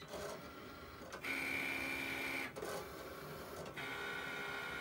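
Electronic cutting machine slicing through paper sheets, a steady mechanical whir with short pauses as the blade carriage moves and stops, close and alone without talk.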